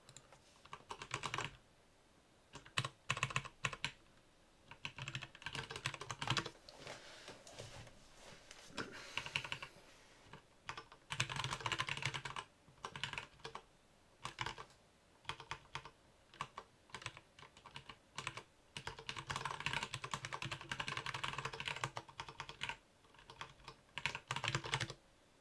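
Steady bursts of typing on a computer keyboard during a programming session, clacking keys in quick irregular runs with short pauses, close and fairly quiet, no voices.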